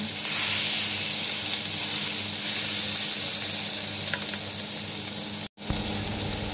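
Ginger hits a pan of hot butter and oil, giving a steady, loud, close-up sizzle and hiss that stays constant, then breaks off briefly near the end before resuming.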